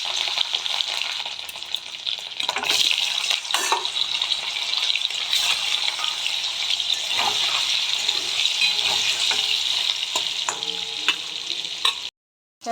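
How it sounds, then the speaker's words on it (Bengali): Paneer pieces fry in salted oil in a wok, a loud continuous crackling sizzle with scattered pops that runs unbroken for most of the clip before cutting off abruptly near the end. "দেখো পনিরগুলো ভাজা হয়ে গেছে,"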